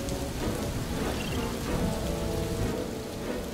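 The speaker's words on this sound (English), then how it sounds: "After hours of rain, a distant rumbling is felt by the coelophysis." Steady heavy rain pours in a Jurassic World Evolution 2 game scene, a continuous dense hiss with a low rumble of distant thunder beneath it, no voices.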